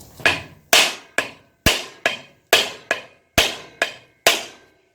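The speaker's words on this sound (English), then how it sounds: "But we'll try the magic hammer on the end of the crank." A hammer strikes the end of a Briggs & Stratton small-engine crankshaft to knock the flywheel loose: about eleven sharp, loud metallic blows at a steady, fairly quick rhythm, each ringing out briefly before the next.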